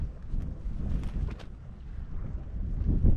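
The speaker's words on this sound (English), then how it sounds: "it's windy, but the wind is warm" Steady gusty wind buffets the microphone at the sea while fishing, a low rumbling roar that swells and eases throughout, with no voices.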